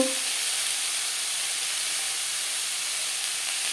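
Fish-curry ingredients fry lightly in a pan with a strong, even hiss that holds at one level throughout.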